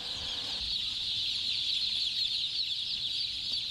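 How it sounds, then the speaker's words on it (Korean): Chicks peep constantly in a poultry shed that holds thousands of birds. The chirping is a dense, high, steady chorus, with a low hum beneath it and no voices. "병아리들은 여기서 한 달 동안 각각 키워질 예정이다."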